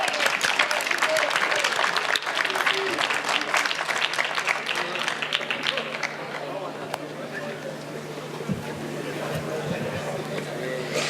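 An audience applauds at an award ceremony honouring South Africa's expanded public works programme, loud steady clapping for several seconds that thins and fades toward the end with some crowd noise.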